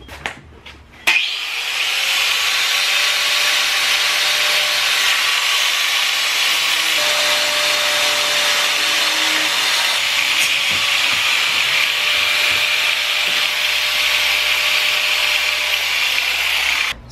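A power tool cuts a Mazdaspeed 3 front lip with a steady, loud, continuous whining hiss that starts abruptly and runs unbroken for over fifteen seconds without speech.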